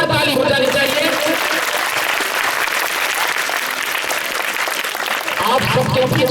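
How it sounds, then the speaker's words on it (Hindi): A crowd in a courtyard at a theatre festival play presentation breaks into loud, sustained applause, a thick continuous roar of clapping that fills the space and carries on steadily. "इस प्रांगण में एक जोरदार ताली हो जानी चाहिए।"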